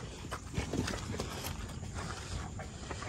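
A reluctant cow's hooves clop and shuffle on the ground in a few irregular steps near a barn entrance, under steady outdoor background noise.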